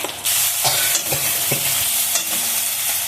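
Spice paste of ground onion and ginger with salt, turmeric and chili powder fries in a pan and is stirred, giving a loud continuous sizzle with several short scraping strokes of a utensil, no voices.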